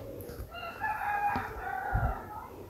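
A domestic desi rooster on a backyard poultry farm crows once, loud and close, a long wavering call with a fairly quiet background and a few soft thumps.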